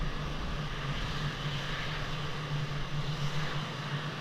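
In the flight simulator Falcon 4 Allied Force, an F-16A MLU's jet engine hums at takeoff, a faint, steady low drone with a faint tonal whine, continuous and without voices.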